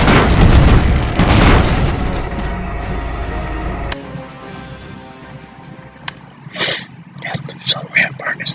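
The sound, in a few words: grenade explosions in Airships: Conquer the Skies video game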